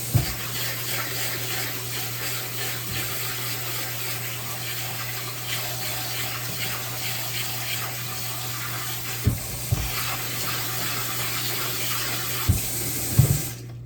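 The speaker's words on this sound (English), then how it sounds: "I'm just gonna rinse this off real quick." Steady stream of cold tap water running into a sink while something is rinsed off, a continuous broadband rush with a few louder splashes and clunks near the end.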